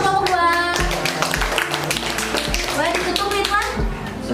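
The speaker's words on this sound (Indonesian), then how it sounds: "beri tepuk tangan kelompok 2" A school class claps for a group that has just presented. Scattered hand claps and taps mix with lively children's voices talking over one another at close range.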